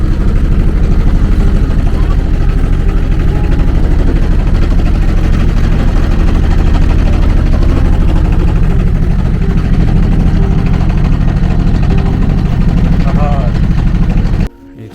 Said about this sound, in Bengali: নৌকার সাউন্ডে অত বেশি শোনা যাইতেছে না